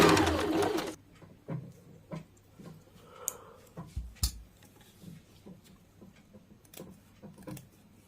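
A sewing machine stitches a boat-neck princess-cut designer blouse in one brief, loud burst at the start, followed by quiet ticks and handling noises of fabric being moved.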